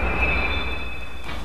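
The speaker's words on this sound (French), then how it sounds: "Rendu au-dessus de la butte, les wagons sont décrochés." Railway wagons rolling over the hump at a marshalling yard, giving a steady low rumble with a sustained high metallic squeal from the wheels, loud and continuous throughout.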